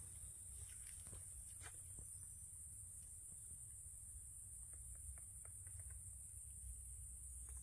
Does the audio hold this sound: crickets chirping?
yes